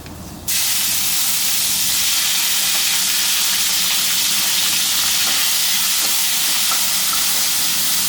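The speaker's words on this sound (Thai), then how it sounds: "หลังจากเราเจียวกระเทียมจนเหลืองนะครับ เราก็ตามด้วยกุ้งนะฮะ" Shrimp dropped into a pan of golden fried garlic, a sudden loud steady sizzle and hiss that starts after a brief moment and holds strong and close throughout, with faint clicks of stirring.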